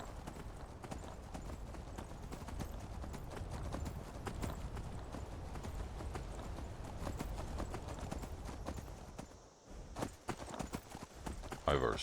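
Horse hooves clip-clop in a steady, continuous rhythm as a rider travels through Skyrim. The close hoofbeats carry on throughout, then break up briefly near the end.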